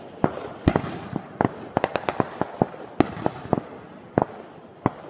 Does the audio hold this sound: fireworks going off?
yes